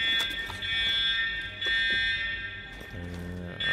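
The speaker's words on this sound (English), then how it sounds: "It definitely makes an alarm." Keycard door alarm in the video game DayZ, a loud, steady electronic alarm tone with stacked high harmonics that sounds continuously, with brief pulsing breaks and lower tonal bursts near the end.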